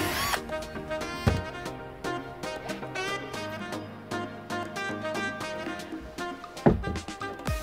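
A cordless screwdriver fitted with a very small bit drills a hole near a bracket in a greenhouse, a close, whirring motor with a few sharp clicks and knocks as it spins up and bites.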